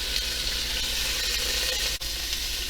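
Turkey giblets brown aggressively in hot oil, giving a steady, dense sizzle that holds close and even throughout, with one brief dip near the end.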